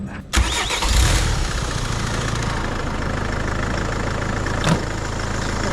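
A Peugeot car engine cranks and catches with a quick starter burst, then settles into a steady close idle with a brief rev bump near the end, in an underground car park.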